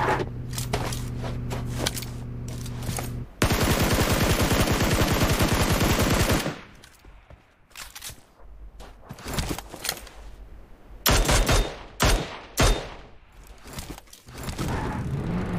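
Gunfire in the mobile battle-royale game PUBG Mobile on the Miramar desert map: scattered loud single shots, then a dense sustained burst of rapid automatic fire lasting about three seconds, followed by more sporadic nearby shots and footsteps.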